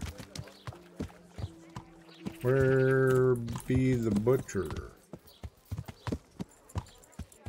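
Horse hooves clip-clop at a steady walking rhythm in the medieval role-playing game Kingdom Come: Deliverance, sharp regular knocks spread across the whole stretch, briefly covered by a loud tonal in-game voice partway through and a short spoken line.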